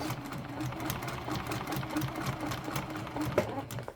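A sewing machine stitches a bag through foam padding, running with a close, steady, rapid mechanical chatter that strains slightly, ending with a brief clunk as it slows.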